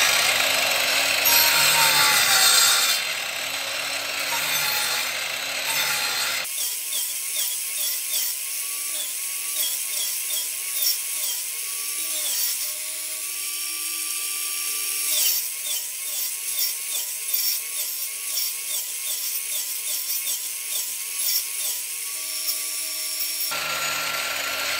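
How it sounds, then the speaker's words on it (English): Saw cutting notches into a Jeep radio mount. A loud buzzing motor runs first, then a long stretch of rhythmic mechanical whirring and grinding with shifting pitch, and the loud burst returns near the end. "Okay, we've raised the saw blade up,"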